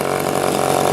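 A 60-size model biplane engine runs steadily at high revs, a loud, buzzing whine that holds an even pitch throughout.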